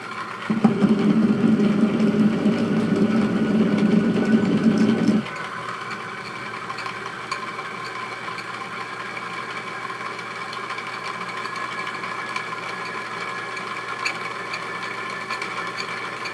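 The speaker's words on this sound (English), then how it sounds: "Stepper motor is still accelerating." A stepper motor drives a 3D-printed planetary gearbox with a 1379:1 ratio, giving a steady whirring drone that is louder at first, then shifts to a smoother, slightly quieter hum as the motor keeps accelerating.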